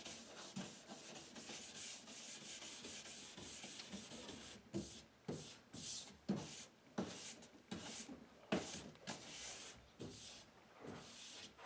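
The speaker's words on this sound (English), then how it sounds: "So we're going to scrub away the ski, trying to get all the wax gone" Wax is scrubbed off a cross country ski with a brush or pad in repeated rhythmic rubbing strokes, a close, raspy friction sound that comes in quick regular pulses.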